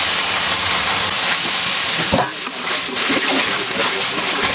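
Bele fish slid into a pan of fried spices sizzles with a steady, loud hiss that fills the whole clip, a brief splatter near the middle as the fish goes in.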